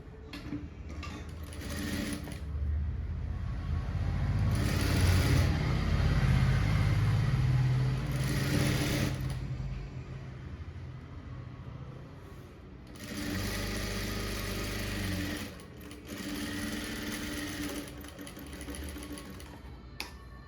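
A sewing machine runs in bursts while stitching a blouse patti, whirring and rattling up close for several seconds at a time, pausing, then starting again; no talk.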